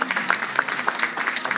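Light clapping at a 50th birthday party, a small group applauding in a steady patter for a moment with faint voices mixed in.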